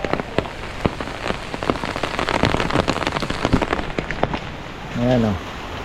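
Steady typhoon rain patters on a surface with scattered louder drips throughout, and a brief voice appears near the end.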